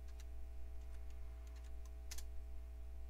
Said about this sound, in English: type in D colon, then type in dir, and you should see setup.exe, and type in setup.